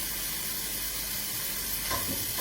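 Green curry paste sizzles in a hot pan with a steady, close hiss and faint crackle, no voices.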